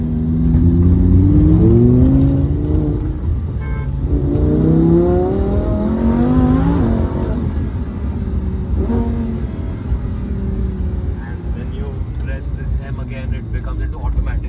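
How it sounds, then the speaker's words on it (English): A Lamborghini Huracan driven on a road in India, its engine and exhaust rising and falling through gear changes with a rough, loud drone up close, then settling to a lower hum under faint talk. "the exhaust is just too good."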